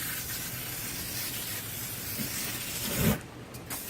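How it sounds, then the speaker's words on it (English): Pam grill spray, a mostly canola oil aerosol, is sprayed heavily onto a grill in a steady close hiss that runs continuously before stopping abruptly near the end. "I'm going to go ahead and give the grill a spray down with some oil. It's Pam grill spray."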